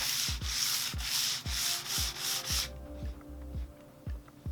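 Sandpaper is drawn lightly by hand along the grain of an old wooden table, giving steady back-and-forth rasping strokes, close and even. The strokes become quieter partway through.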